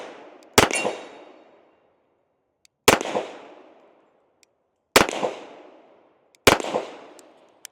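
Four sharp, loud pistol shots from a stainless Sig 1911 Series X fired at a range, spaced unevenly about two seconds apart, each with a brief echoing decay and silence between.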